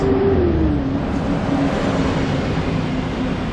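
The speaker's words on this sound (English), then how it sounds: "I'm just gonna capture this bus." A bus rumbles along a street in Taipa, Macau, its engine drone loud and steady with a slowly falling pitch as it passes close by, and no talking.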